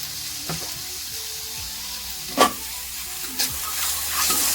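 Cucumber stir-fried in a pan with white pepper and oyster sauce, a steady sizzle and fry punctuated by a few sharp scrapes and clinks of the spatula, with no talk.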